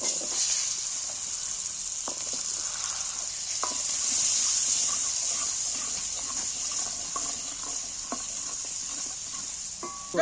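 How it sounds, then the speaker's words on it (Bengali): Onion frying in a pan with ginger and garlic gives a steady, even sizzle that carries through the whole clip, with light stirring clicks and scrapes on top. No one speaks. "আদা রসুন কোচনার সঙ্গে পেঁয়াজটা প্রথমেই দিচ্ছি"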